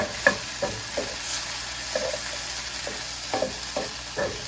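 Beef with red and sweet peppers is stir-fried in a pan with a little oil, giving a steady sizzle broken by repeated scraping stirs of a utensil at an uneven rhythm, close and unaccompanied by speech.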